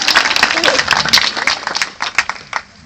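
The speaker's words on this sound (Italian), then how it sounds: "Facciamo un applauso a Fabio." An audience at a cabaret comedy show claps for Fabio, a man who has just been brought on stage; dense, steady clapping fills the clip and fades toward the end.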